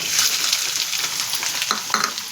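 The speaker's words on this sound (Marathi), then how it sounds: "आता बारीक चिरलेला कांदा टाकून घ्या." Finely chopped onion hits hot oil with a bay leaf over a high flame, giving a close, busy sizzle with small crackling pops for a couple of seconds.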